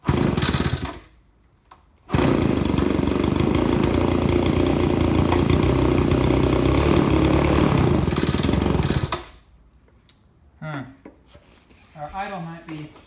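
A 25cc weedeater engine, mounted in an RC prop car build with a propeller fitted, runs loud and steady for about seven seconds after a brief start, then cuts out; short bursts of talk follow in the quiet.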